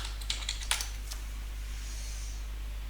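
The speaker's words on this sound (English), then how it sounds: "now I'll type my password for this user" Quick, light taps on a computer keyboard as a password is typed, with a short flurry of clicks early on, then a near-silent room hum.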